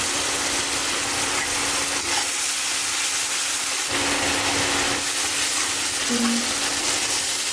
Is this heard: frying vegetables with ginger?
yes